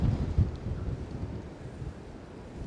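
Strong wind at night in an open car park in Blackpool, gusting and buffeting in low rumbles with a few heavier thumps near the start, then settling into a steady roar, with no talk.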